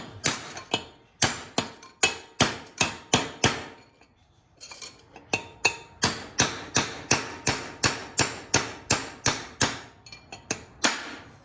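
A hammer drives a chisel to knock out a rear differential bearing race, a steady run of sharp, loud metallic blows about two per second, close by, with one short pause partway through.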